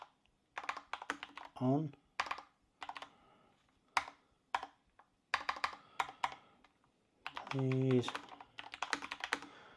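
Quick bursts of clacky keystrokes on a Qwerkywriter typewriter-style mechanical keyboard, close and crisp, broken by short pauses, with a person talking briefly between the typing runs.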